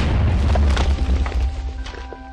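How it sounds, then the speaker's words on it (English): A deep, booming TNT cannon explosion in Minecraft bursts loudly at once, then rumbles and fades over a couple of seconds, with some faint tonal game sounds lingering near the end. "Alright, now this is the OP cannon. Let's fire it off."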